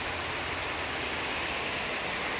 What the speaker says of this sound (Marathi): हा पत्र्यावरचा आवाज तुम्ही ऐकू शकता, किती जोरात पाऊस येतोय